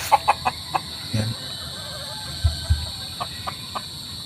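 Chickens cluck in a farmyard, several short clucks and squawks scattered across a few seconds at moderate distance, with a steady background hum and faint voices.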